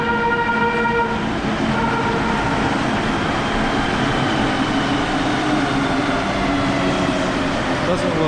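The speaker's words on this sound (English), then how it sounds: "Here comes my train." A Mexico City metro train on rubber wheels pulling into the station, a loud continuous rumbling roar with tonal whine and a brief horn-like toot, filling the whole stretch.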